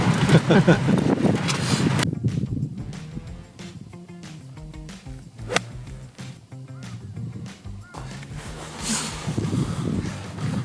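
Strong wind gusting across a winter golf course, a loud rushing roar buffeting the microphone in waves, with voices and laughter mixed in.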